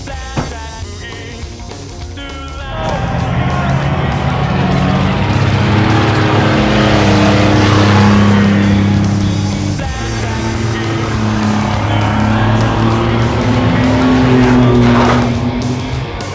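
Loud, continuous engine roar of racing cars, rising and swelling as vehicles rev and pass, with a brief quieter stretch at the start.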